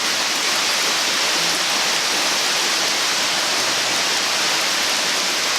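Heavy rain falls outdoors in a continuous broadband hiss, constant and close, like drops drumming on the ground and nearby surfaces, with nothing else audible.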